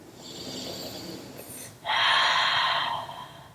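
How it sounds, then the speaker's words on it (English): Deep breaths during a yoga session: a long slow inhale followed by a louder, breathy exhale, close and alone without talk. "Breathing here."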